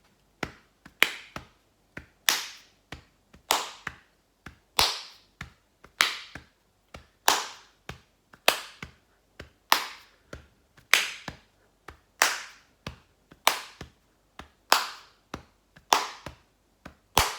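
Hands slap the chest in a steady body-percussion rhythm, a long run of crisp, close, evenly paced hits grouped in repeating patterns, with no talk over them.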